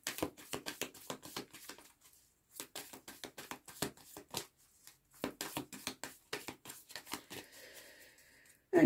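A deck of cards being cut and shuffled, a rapid run of crisp riffling flutters in bursts with short pauses between them, close and fairly quiet, ending with a louder thump.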